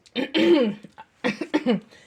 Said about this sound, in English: I think it's from this book being old that I just had a little miniature coughing fit